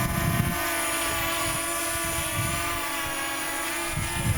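A continuous high-pitched whine of a sub-250-gram Loolinn Z6 Pro drone's small propellers hovering nearby, steady in pitch, with gusts of wind buffeting underneath.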